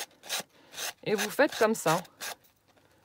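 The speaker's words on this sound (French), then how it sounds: "vous prenez une lime à ongles et vous passez sur votre papier pour le couper" A nail file rubs across paper napkin to cut it, giving a few short raspy strokes near the mic, with someone speaking French in the middle of the clip.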